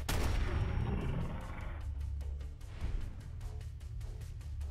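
Weapon fire in the video game Fallout London: a loud opening burst of gunfire, then a long run of rapid, evenly spaced shots from a 32-round weapon, with no talk.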